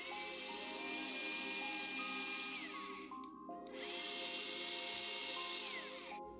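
A compact cordless three-speed hand mixer runs with a steady high whine. It cuts out briefly partway through, then starts again, close and alone with no talking.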